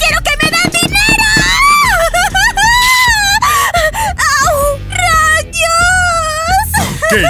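A child wails and screams loudly in long, wavering, strained cries that rise and fall without pause, close and intense, during a family argument at home.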